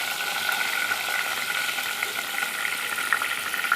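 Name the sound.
bay leaves and dried red chillies frying in oil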